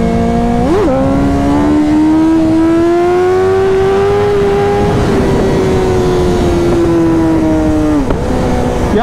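BMW S1000RR and Honda CBR1000RR superbikes drag race, their exhausts roaring loud and close. The engine note climbs steadily through long high-rev pulls, with sharp gear-change dips near the start and end.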